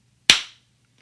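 A single sharp slap of two palms meeting in a high-five, close and crisp with a quick decay, then quiet.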